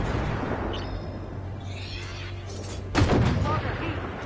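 A sharp, booming tank cannon shot from the AMX-10RCR in the video game Armored Warfare bursts out once amid background game noise, with a voice talking.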